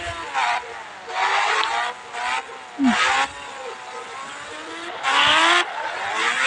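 A motorbike in a video game revs and skids in short repeated bursts, engine whine rising and falling with brief tire-squeal screeches, loud and close with gaps between runs.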